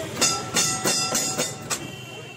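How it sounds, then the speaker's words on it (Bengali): A Kolkata electric tram rolls along its rails, its wheels striking track joints in a regular clickety-clack of about six sharp beats over a steady running hum, close by and with no talking. "নস্টালজিক ট্রাম যেন প্রপিতামহের দায়িত্ব পালন করে চলেছে।"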